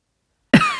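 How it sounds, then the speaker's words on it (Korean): A single sharp, hacking cough bursts out abruptly after silence, close and loud, with a brief rough tail. "귀에 익은 콜록거리는 기침소리에 나는 미간을 찌푸렸다"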